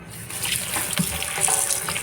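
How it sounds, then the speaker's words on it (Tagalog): Tap water runs steadily into a kitchen sink while vegetables are washed in salted water, a close continuous splashing gush with faint handling sounds and no voices. "agad na akong pumunta dito sa lababo para atin na itong mahugasan"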